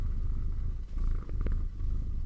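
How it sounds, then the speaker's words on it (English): A loud, AI-generated cat purr plays alone as a steady, close rumbling throb that swells and eases in slow pulses for about two seconds. "it does sound like a cat purring"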